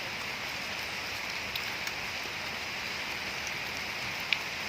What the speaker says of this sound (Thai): ฝนตกอย่างนี้